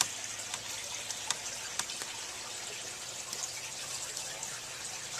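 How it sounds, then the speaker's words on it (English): Tap water gushes steadily into a seeding tray for an aquaponics system, a continuous splashing hiss with small irregular plops, close and fairly loud, with no talking. "and turn on the water."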